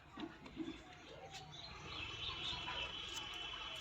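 Pigeons in a loft give soft chirps and low coos, faint and intermittent against a quiet, slightly noisy background.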